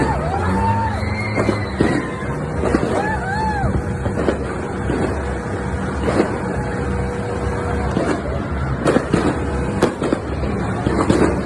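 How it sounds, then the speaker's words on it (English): Outdoor New Year's Eve celebration in the Philippines, with fireworks popping and banging irregularly over a loud, dense wash of crowd noise, whistles and nearby traffic or engines. "watching the fireworks"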